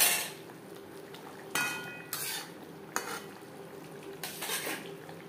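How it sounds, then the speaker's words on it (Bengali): A utensil works ghee and garam masala powder into cauliflower and potato curry in a pan, several distinct scraping, clattering strokes spaced a second or so apart over a low background, no speech. "ফুলকপির সাথে ঘি গরম মশলা মিক্সড করে দেব।"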